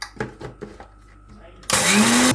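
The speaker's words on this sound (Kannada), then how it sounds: "ಮಿಕ್ಸಿ ಮಾಡ್ಕೊತಾ ಇದ್ದೀನಿ" A brief voice is followed by a mixer grinder suddenly roaring to life grinding coriander seeds, loud and steady with a rising whine as it spins up.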